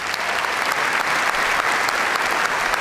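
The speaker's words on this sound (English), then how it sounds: "Another round of applause, please." A crowd at a high school graduation ceremony applauds in a full, continuous wash of clapping, loud and even from start to finish, with no talking on top.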